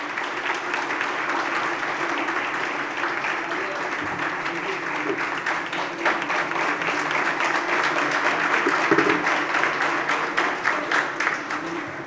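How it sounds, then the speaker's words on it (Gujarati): Sustained applause from an audience at a Thursday talk-program event in Surat honoring a young woman, dense and even, swelling slightly toward the end, with no voices rising above it. "જોરદાર તાળીઓથી આપણે સન્માનને વધાવીશું"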